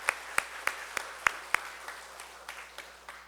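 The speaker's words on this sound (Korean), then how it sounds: "우리 박수 한번 하겠습니다" Church congregation clapping in a scattered rhythm, roughly ten distinct claps spaced a beat apart, moderately close in a room, fading slightly toward the end with no talking over them.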